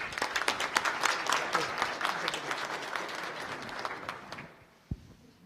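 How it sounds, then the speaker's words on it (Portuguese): A workshop audience claps in a burst of applause, dense and lively at first, then thinning and fading out toward the end, followed by a single thump. "Eu queria pedir uma salva de palmas do Dr. Nelson novamente."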